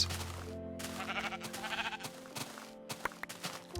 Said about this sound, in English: look at all these sheeps